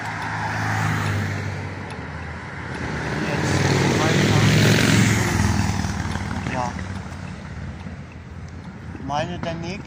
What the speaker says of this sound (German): Ich glaube, jetzt kamen alle Busse.